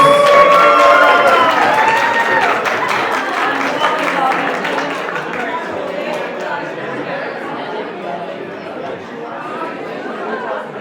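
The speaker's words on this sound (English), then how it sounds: "let's give the beautiful couple another round of applause." Guests at a 60th birthday party clap for a couple, the applause mixed with lively crowd chatter and cheering, loud at first and gradually thinning as voices take over.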